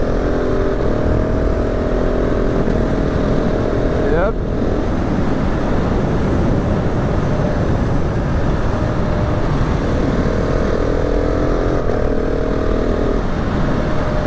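A 2019 KTM 690 SMCR single-cylinder motorcycle engine drones loud and steady while being ridden, with a brief shift in pitch partway through. A rider talks over it.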